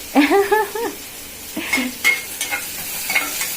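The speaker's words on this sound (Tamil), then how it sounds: "காயெல்லாம் போட்டு கிண்டிடுவோம் எண்ணெயிலேயே" Vegetables frying in oil in a pan are stirred with a utensil, giving a few close, intermittent scraping strokes over a soft sizzle, with a brief vocal sound near the start.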